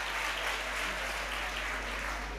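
Audience applause at a Hindi poetry recital, a dense, even wash of many hands clapping that holds steady throughout without pause, fairly loud and continuous.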